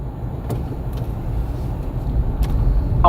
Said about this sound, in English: So it has no visual, just could hear the vehicle.